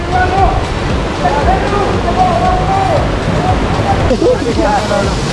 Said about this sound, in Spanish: Llegamos por fin a la cascada Cinco Cerros.